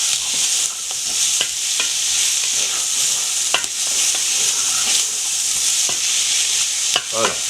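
Sliced onions sizzling steadily in a frying pan, with periodic scraping clicks of a utensil stirring them, loud and close with no talking.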